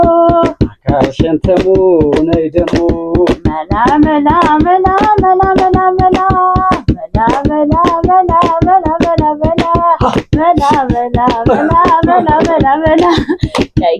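Rhythmic hand clapping keeps a fast, steady beat along with a sung Ethiopian Gojjam or Wollo style dance song, voices singing over the close, sharp claps throughout.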